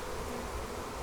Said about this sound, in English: All these bees are collecting on top of it, and they're smelling the queen's pheromones.